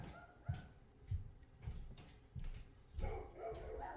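Neighborhood dogs bark in a series of about five spaced barks, faint and distant, heard indoors over a quiet room.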